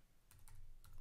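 Typing a URL into a browser address bar on a computer keyboard, heard as a quick run of crisp key clicks that grows slightly denser, close and clear with no voices.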